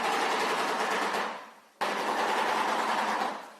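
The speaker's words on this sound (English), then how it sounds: "when they do their mating call, it sounds like you're listening to like a machine gun out in the distance" Bird mating call, a dense rapid clatter like distant machine-gun fire, two long rattling bursts separated by a brief pause, loud and steady with no talking.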